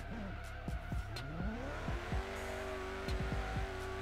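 A Tesla fitted with a Koenigsegg Regera engine wheelspins in reverse in Forza Horizon 3, its motor whine climbing and holding high while repeated tire squeals chirp and skid across the throttle run, loud and close.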